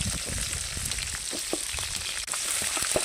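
Onions added to hot oil already holding green chilli, garlic, ginger and pepper, sizzling and frying in a steady, close, continuous crackle with occasional brief pops and stirring clicks, no voices.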